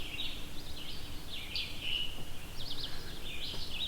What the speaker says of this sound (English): As you can hear right now, I'm surrounded by birds. Red-eyed vireos, scarlet tanagers here as well.